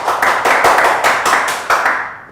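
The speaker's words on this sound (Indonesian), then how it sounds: "Tepuk tangan dulu untuk Akang Pur." A short burst of audience clapping at a port safety talk show in Banyuwangi, broadband and fairly loud, fading out toward the end with no voices.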